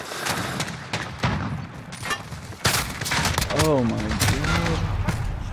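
Shotgun blasts in Call of Duty come in a dense, loud barrage of gunfire and booms, with excited voices talking over the shooting throughout.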